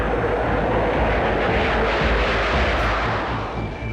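A Panavia Tornado jet aircraft roars past, a loud, dense, continuous engine rumble that eases slightly toward the end.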